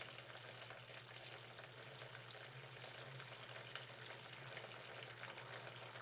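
Continuous gurgling and rushing water as an aquaponics bell siphon drains a grow bed, steady and fairly loud throughout, with bubbling underneath.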